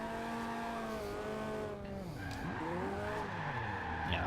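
A Mazda MX5 with stock suspension drifting in the video game Forza Horizon 2, tires squealing in long wavering tones while the engine revs and shifts pitch, close and steady throughout.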